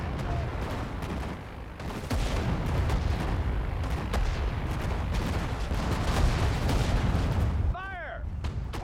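Constant heavy gunfire and booming artillery in the WWII strategy game Sudden Strike 4, a dense loud barrage of cracks and thuds that barely lets up, with a brief whistling sound near the end.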